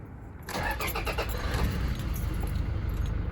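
A 2017 Toyota Hilux 2.4 D-4D diesel pickup engine cranks and catches, then settles into a steady, fairly smooth idle close by, preceded by a brief jingle of keys.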